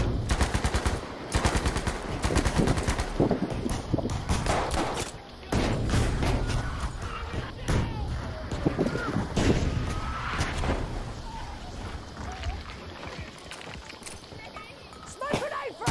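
Enemy artillery and dense gunfire pound a Battlefield V battlefield, sharp loud impacts and rapid bursts crowding the first half before thinning to scattered shots, with shouted voices mixed in.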